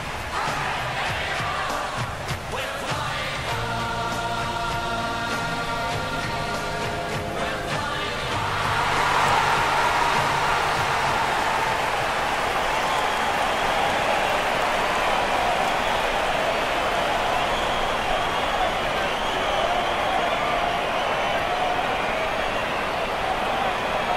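Crowd noise in the AFL Evolution football video game, with a broad, steady roar of a stadium crowd that swells and holds for the whole stretch, mixed with a brief patterned tone early on.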